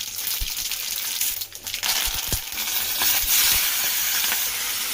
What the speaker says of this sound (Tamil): ஒரு 3 நிமிஷம் இதை நல்லா வதக்கிடலாம்.